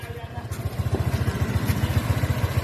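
A 110 cc motor scooter engine revs during a speed test, its rapid pulsing rising and swelling steadily, close by, while people talk over it.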